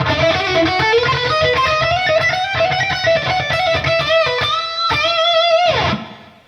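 An electric guitar lick played at a brisker pace, a quick stream of picked and bent notes ending in a sliding bend that fades out.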